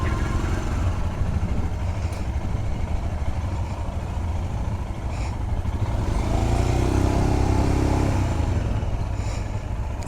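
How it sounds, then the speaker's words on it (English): Royal Enfield Scram 411 motorcycle riding on a road in staggered formation with another rider, a steady loud engine drone and wind rumble throughout with slight swells in revs, no talking. "Right now I'm on the Royal Enfield Scram 411."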